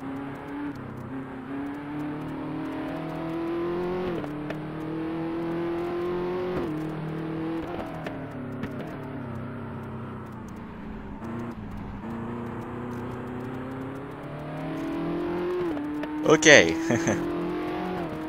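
Race car engines drone and rev continuously in the Race Pro video game, with gear changes and a brief tire squeal near the end, while someone talks over the engine noise.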